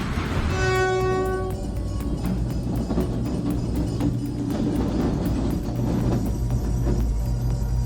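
A locomotive sounds a loud, harmonic horn blast that fades after a couple of seconds, then gives way to a heavy, steady rumble and rattle of rail cars rolling past nearby, close and continuous.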